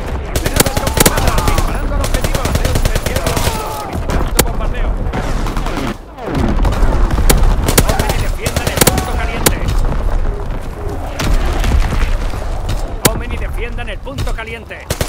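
Dense gunfire and explosive booms from Call of Duty: WWII, with machine-gun bursts, rifle shots and artillery blasts packed together over a constant loud battlefield din, with game voice callouts mixed in.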